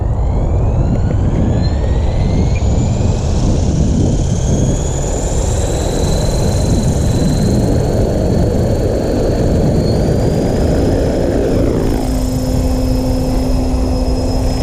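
An Ikarus Eco-8 model helicopter's rotor runs with a loud, continuous close whir and a high whine that slowly rises in pitch. Near the end the tone shifts and settles into a steadier hum, and no voices are present.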